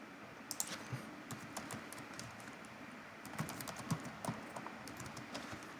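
Typing on a computer keyboard, a steady run of quick, light clicking keystrokes with a few louder taps, close by and with no talk.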